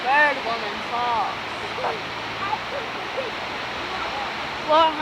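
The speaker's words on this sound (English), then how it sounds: "Bird Woman Falls." Bird Woman Falls, a tall waterfall on a Montana mountainside, makes a steady broadband rush throughout, with birds chirping over it and brief gusts of wind noise on the microphone.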